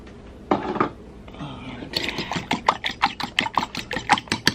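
Egg and vanilla being mixed into banana cake batter in a bowl, a run of quick, rhythmic utensil clinks and scrapes against the bowl, close and fairly loud after a brief pause.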